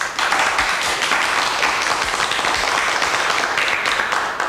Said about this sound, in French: Ces applaudissements vont aussi à monsieur O'Haraud.